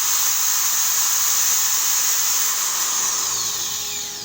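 An electric drilling machine powered from a home inverter whines at high pitch, close and steady, then its tone slowly drops near the end.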